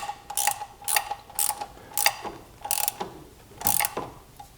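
A ratchet hand tool tightening the top bolt on a car's thermostat housing, six short bursts of rapid metallic clicking in an even rhythm, close and clear with no talking.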